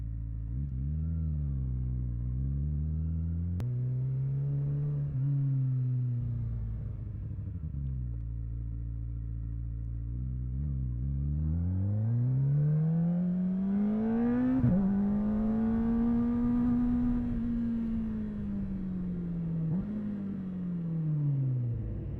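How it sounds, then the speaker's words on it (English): A motorcycle with a quickshifter downshifting, the engine rising and falling in pitch through several gear changes, with sharp auto-blip revs near the middle, loud and close with no talk. "you can go to the gear 1 and it does the auto blip for you"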